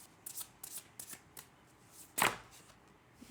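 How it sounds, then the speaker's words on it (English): A deck of tarot cards is shuffled by hand in several short riffling bursts, with one louder, longer riffle near the end and quiet pauses between them. "Just give them a little bit more shuffle to make sure they're well mixed in."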